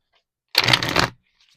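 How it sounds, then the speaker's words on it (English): A deck of tarot cards gets a single quick riffle shuffle, a short close burst of crisp flapping and rustling lasting about half a second, then quiet. "Let me give it a shuffle."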